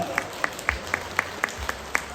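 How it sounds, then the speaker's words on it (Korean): Sparse, evenly spaced handclaps from the crowd at a Korean bullfighting final in Uiryeong, about eight sharp claps at a steady beat, with a low rumble and faint voices underneath. "그 선수에게 박수 한번 주시기 바랍니다."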